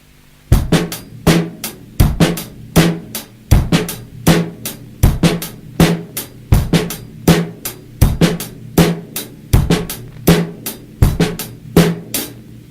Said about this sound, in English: The next groove has the snare on the E of 1